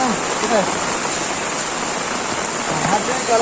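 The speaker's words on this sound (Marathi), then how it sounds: "गावी 4 दिवस लय पाऊस पडतोय" Heavy monsoon rain pours down on village farm fields in a dense, steady hiss throughout, with faint voices now and then beneath it.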